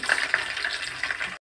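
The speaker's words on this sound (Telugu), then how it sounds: "స్పూన్స్ ఆయిల్, ఎల్లిపాయ దంచుకొని వేసుకుంటాం, కరివేపాకు, ఎండుమిర్చి," Crushed garlic, curry leaves and dried red chillies hit hot oil for a dal tempering, giving a brief, close, crackling sizzle with a few sharper pops and no voices.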